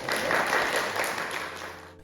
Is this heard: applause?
yes